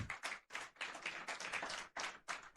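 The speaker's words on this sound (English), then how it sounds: "That clap is not resounding enough." Dense applause from a crowd, many hands clapping together with brief dips, loud and sustained.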